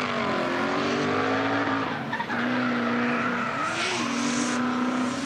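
A Falken Drift Team car sliding sideways at the 24h Nürburgring drift show, its engine droning loud and steady with a sustained tire squeal that dips briefly midway, then resumes.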